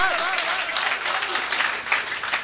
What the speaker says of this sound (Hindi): एक बार तालियां जोरदार बजनी चाहिए।